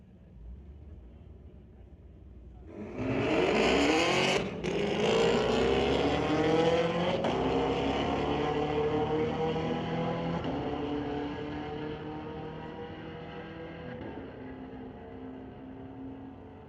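A 2017 Camaro and a 2006 Dodge Charger launch in a street-legal drag race at Mission Raceway Park, their engines roaring up loudly through rising gears, then fading away into the distance.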